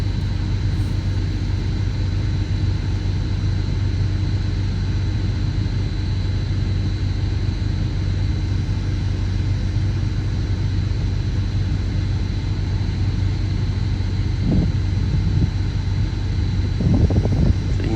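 A heavy-hauling Peterbilt truck turns around, with a steady, loud diesel drone and rumble running throughout, wind buffeting the microphone, and a few faint knocks near the end.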